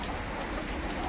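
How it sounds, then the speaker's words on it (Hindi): Heavy rain pours down steadily, a dense, continuous hiss of drops striking surfaces, close and even with no voices. "बारिश जो है बहुत तेज़ हो चुकी है"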